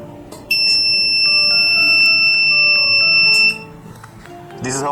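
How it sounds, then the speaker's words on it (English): A door monitor alarm built from a sensor and circuit on a small frame rings with a loud, steady electronic tone that holds for about three seconds, then cuts off, with faint background noise around it. "when a person enters at the doorstep, automatically the bell rings"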